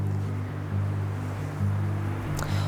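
Wind gusting across a microphone outdoors while travelling in Spain, a steady loud low rumble that swells in gusts, alone without talk.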